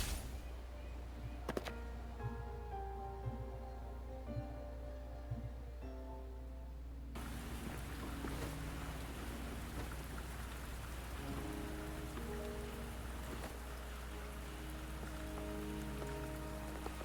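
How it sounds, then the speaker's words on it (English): Steady rain pours throughout a scene in the video game Wuthering Waves, a dense continuous hiss with scattered raindrop taps and a couple of sharp cracks, under a soft sustained musical tone. "Are you trapped here by the rain?"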